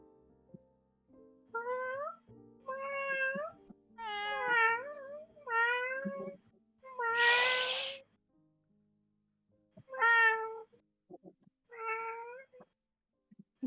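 A person imitates a cat with a run of drawn-out, pitched meows, about seven separate calls with short pauses between them and a breathy hiss-like burst in the middle, close and fairly quiet.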